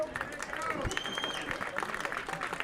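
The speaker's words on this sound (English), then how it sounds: "Thatch accepts some round of applause from the Cotuit faithful" Cotuit faithful applaud at a Cape Cod League baseball game, the Kettleers hosting the Falmouth Commodores, as a pitcher leaves the mound; steady clapping from a crowd sits under an announcer's ongoing commentary.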